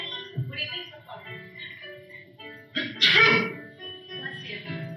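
A single sneeze bursts out about three seconds in, set among domestic family talk in a home, loud and close with voices before and after it.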